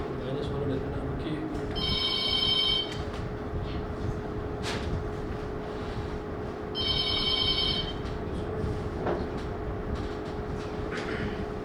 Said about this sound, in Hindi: कितनी बार बजाओगे ये फ़ोन?